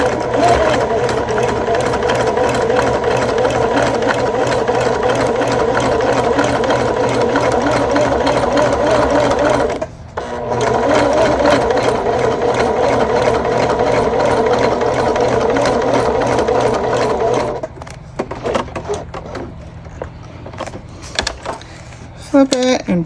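A sewing machine runs steadily, stitching a line across a fabric bag, its fast even whir lasting about ten seconds, pausing briefly, then resuming before stopping into a few scattered handling sounds.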